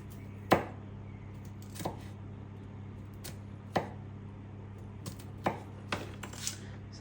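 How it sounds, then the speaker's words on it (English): A knife chopping small garlic cloves on a board: a few sharp, separate knocks spaced irregularly over a steady low hum, close and fairly quiet, with no talking. "I do have garlic press, but I think it's more fun to cut garlic"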